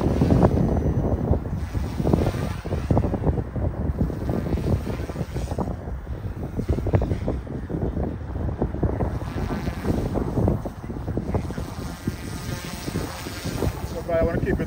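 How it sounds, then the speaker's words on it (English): Strong wind buffets an outdoor microphone near a running OMP M2 Evo engine, a continuous loud rumbling roar with gusty swells throughout and no pause. "Windy today, but it's doing really good in the wind"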